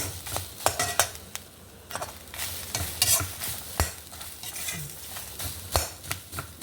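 Grated coconut is fried with cumin in a pan, with a quiet sizzle beneath irregular scraping and clinking as a spoon stirs against the metal.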